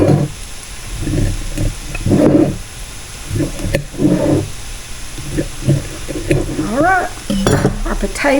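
Potatoes frying in a pan, heard as a close sizzle with stirring and scraping, a few louder bursts and occasional pan knocks, while a voice speaks briefly over the cooking.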